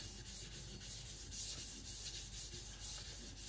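A knife blade is drawn in repeated short strokes across a sharpening stone, producing a steady series of quick, hissy scraping rubs, close and quiet, with no voices.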